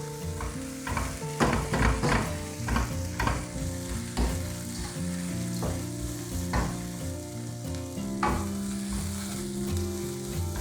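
Water spinach (kankun) cooks in a pan for a tempered egg dish, with a continuous sizzle under repeated clattering stirs and scrapes of a utensil. A quiet tonal hum sits in the background and no one speaks.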